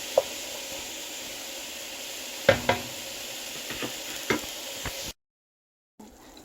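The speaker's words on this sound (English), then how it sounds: "Listen to that sizzle." Chicken pieces for a chicken curry sizzle in a pan, a soft steady hiss near the mic broken by a few sharp clinks and scrapes, then a sudden cut to silence before faint sound returns.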